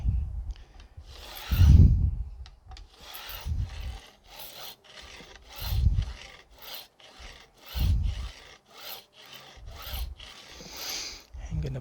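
A file rasps back and forth over the cut ends of guitar fret wire, beveling them flush with the fretboard, in a series of loud, close, rhythmic strokes roughly every second.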